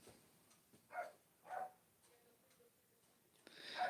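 A dog indoors gives a few short, muffled barks or yips, spaced about half a second apart, faint and somewhat distant, then a louder sound at the end, with no talking.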